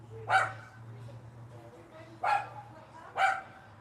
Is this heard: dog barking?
yes